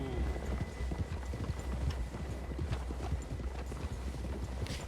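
Horse hooves clip-clop at a steady trotting rhythm in the video game Red Dead Redemption 2, under a constant low rumble of ambience, close and moderately loud throughout.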